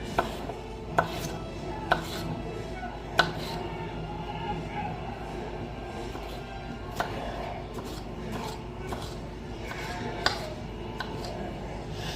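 Knife chopping cherry tomatoes on a cutting board, a few sharp irregular chops scattered over steady low background noise in a kitchen.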